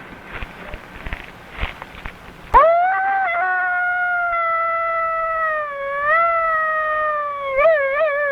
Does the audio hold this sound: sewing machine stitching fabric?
no